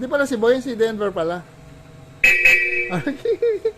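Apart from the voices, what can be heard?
car horn honking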